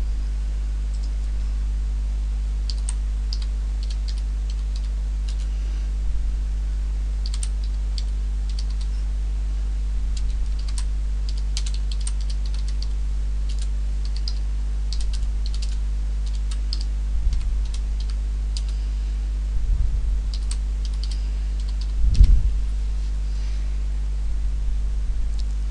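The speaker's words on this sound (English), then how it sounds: "I now type in a heading for my report." Soft, sparse keystrokes on a computer keyboard as a report heading is typed, faint clicks scattered over a steady low electrical hum, with a few louder taps near the end.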